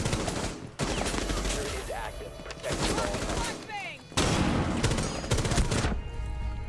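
Gunfire during a Rainbow Six Siege match, loud bursts of rapid shots in several rough clusters mixed with impacts and debris clatter, with a player talking over the action.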